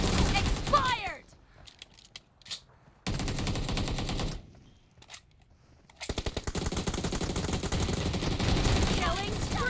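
Shotgun fire and rapid bursts of gunfire ring out in the mobile shooter game War Mobi. Loud blasts come in clusters separated by short gaps, then settle into a quick rhythmic volley, with faint game voices in places.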